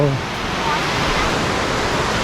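Water pouring over a very large dam, a loud, steady, close roar of rushing water that fills the whole clip without a break.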